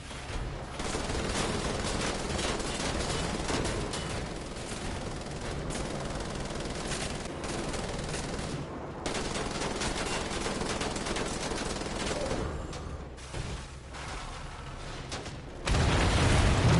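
Enemy gunfire in the video game Wolfenstein: The Old Blood rattles almost nonstop in dense automatic bursts with booming impacts, loud and continuous with only brief lulls, and no talking over it.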